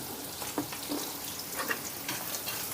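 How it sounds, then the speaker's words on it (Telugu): Cashew nuts fry in a pan of oil with ginger, green chilli and curry leaves, giving a soft, close sizzle with occasional small crackles and stirring scrapes, fairly quiet and steady. "ఈ జీడిపప్పుని దోరగా వేయించుకుందాం"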